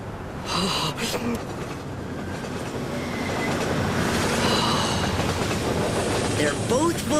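A cartoon subway train running, a loud continuous rumble with rattling clickety-clack of wheels and brief squeals, with a gasp and brief voice sounds over it.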